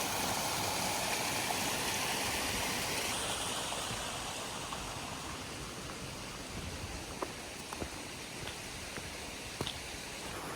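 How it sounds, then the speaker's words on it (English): Stream flowing beside a hiking trail through trees and rocks, a continuous close rushing of water that eases slightly partway, with a few faint ticks and taps on top. "The water's just going through there and it follows the trail"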